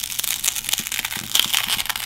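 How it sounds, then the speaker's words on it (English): Cracked back glass on an Oppo Find X phone is pried and bent back, giving a continuous close crackling and crunching with small sharp snaps throughout. "Bending back the fractured glass,"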